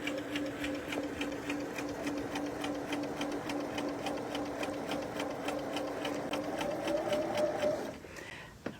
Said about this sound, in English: And I just sew.